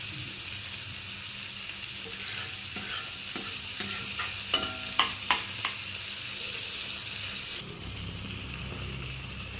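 Tomatoes sautéing in a pan for ridge gourd kootu: a steady sizzle with a run of stirring scrapes and taps in the middle, close and moderately loud.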